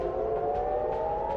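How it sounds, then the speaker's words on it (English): A steady, wailing air raid siren in Tel Aviv during the Israel-Hezbollah war holds a continuous tone, loud and sustained throughout with no voices. "Air raid sirens in capital Tel Aviv went off"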